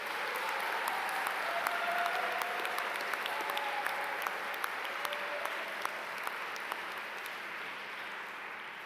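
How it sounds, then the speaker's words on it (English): A graduation crowd at a 2021 Nicholas School of the Environment commencement applauds its professors, a long, even wash of many hands clapping, moderately distant and slowly thinning toward the end. "A round of applause,"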